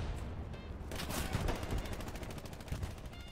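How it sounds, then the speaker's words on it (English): Gunfire in the World War II shooter game Hell Let Loose: a steady, rapid run of sharp shots starts about a second in and continues to the end, mid-distance and fairly loud, with no talking. "they're shooting from that direction"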